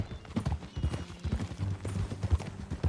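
Horse hooves clip-clop in Red Dead Redemption 2, an uneven run of close, soft hoof thuds at a walking pace, continuing steadily with low ambient rumble.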